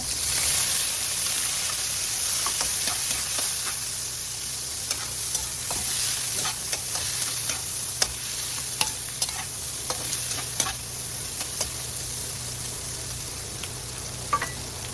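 Liver stir-fried in a pan for a Chinese-style dish: a steady close hiss of frying with scattered scraping taps of the spatula throughout.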